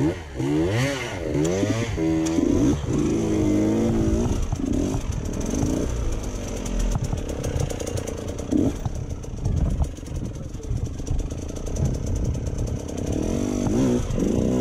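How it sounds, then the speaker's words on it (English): Motorbikes run nearby with a continuous buzzing engine drone, revs rising and falling throughout, loud and steady under occasional voices. "That's just bikes running so lekker."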